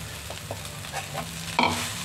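Cooked rice with curry leaves and curry leaf powder gets mixed and fried in a pan, a soft sizzle with a few light stirring scrapes and a louder clunk near the end.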